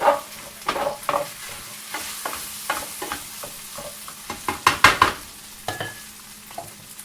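Minced meat for an Australian meat pie filling sizzling in a hot pan, with repeated scrapes and stirring knocks over a steady frying hiss, loud and close.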